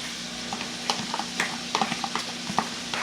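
Green onions stir-fried in a wok for seafood fried rice, a steady close sizzle broken by irregular scraping and clacking spatula strokes, with no voices.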